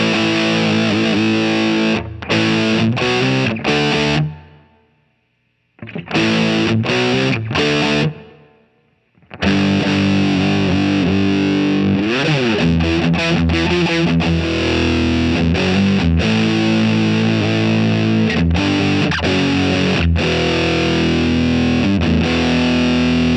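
An electric guitar driven through a Mosky Obsessive handmade overdrive pedal rings out with thick, gritty distortion, strummed chords and riffs played loud and close, with two short gaps of silence.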